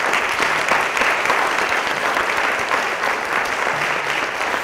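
A room full of people at an evening talk on reentry gives a steady round of applause, dense continuous clapping that holds at an even level throughout.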